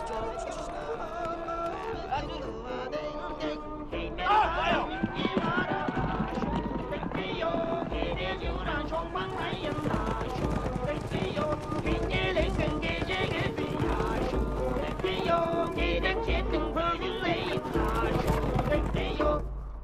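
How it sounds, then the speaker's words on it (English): Horses galloping with steady clip-clop hoofbeats across the Mongolian countryside, heard under music and a voice talking. "some of these kids, they ride 15 kilometers out in the countryside on these horses"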